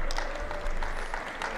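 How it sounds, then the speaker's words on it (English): Subdued applause from the crowd at a badminton match, the 2014 French International mixed doubles, with a short, soft, steady patter of clapping in a large hall. "A subdued round of applause."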